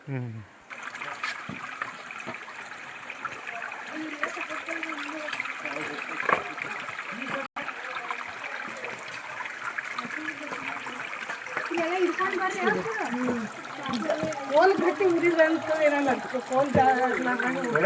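Stream water trickles and splashes over rocks on a forest trek at Ahobilam, a steady close gurgle that grows louder toward the end, with people talking over it.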